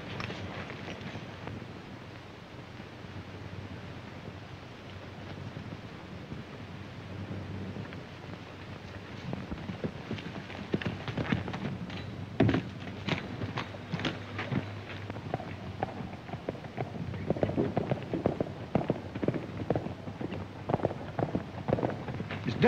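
Horse hooves gallop in a rapid, uneven drumming that grows louder and nearer partway through, over a low rumbling background.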